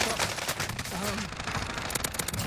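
Rapid bursts of video game gunfire crackle densely and loudly throughout a tournament livestream, filling the whole clip with sustained automatic fire.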